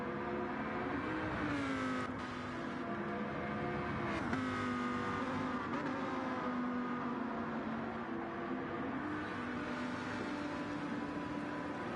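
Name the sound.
race car engine revving in a racing video game at Goodwood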